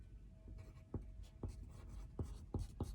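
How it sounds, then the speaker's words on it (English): Pen writing on paper at close range, a few short scratchy strokes with small taps, quiet against a faint background hum. "When I write my name on it,"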